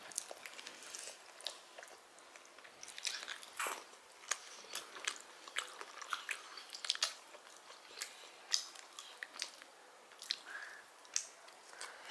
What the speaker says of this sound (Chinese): 好吃就是好吃，就不停的吃啊